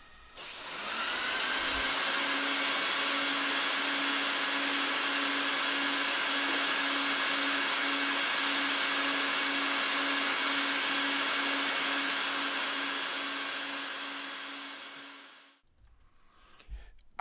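A homemade vacuum extraction machine cleaning an oriental rug roars steadily with a loud, even airy whine and a low hum, running close for about fourteen seconds before cutting off.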